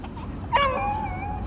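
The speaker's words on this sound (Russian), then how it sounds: "Собачка что-то там возникает." Small dog giving a brief high whimper that rises then slides down into a thin whining tone, fairly faint, outdoors on a spring walk, no talk.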